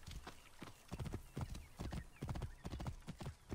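A horse in the game Assassin's Creed Origins trots along with brisk, rhythmic clip-clopping hooves, close and clear, and a brief whinny comes through alongside.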